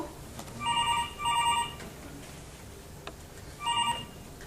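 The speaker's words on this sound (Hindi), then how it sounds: "अरे गणपत, हाँ, कौन है फोन पे?" A telephone rings for an incoming call during a safety play staged at the Kakrapar site in Gujarat, India. Two quick rings come close together, then a third follows after a pause, all over low background noise.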